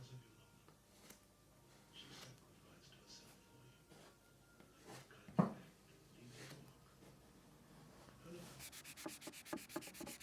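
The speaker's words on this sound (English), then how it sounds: "then I sanded the top with a very fine grit sandpaper" Fine grit sandpaper rubbed over a wooden coffee table top, giving soft, low scratchy strokes with one sharper knock partway through and quicker rhythmic rubbing near the end.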